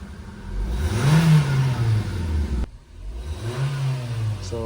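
A car's engine revs up and settles twice, the note climbing and falling back with a brief dip between, loud and close with no one talking over it.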